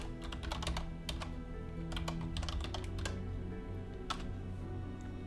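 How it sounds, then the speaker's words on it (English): Fast, close clicks of a computer keyboard being typed on, arriving in quick clusters separated by short pauses over a steady low background hum, with no one speaking. "I'll actually type it in chat for you"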